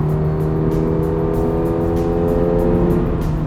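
Toyota GR86 with a manual gearbox and naturally aspirated engine pulling hard, a loud steady engine drone with strong low harmonics and a rapid pulsing rasp on top, close and continuous.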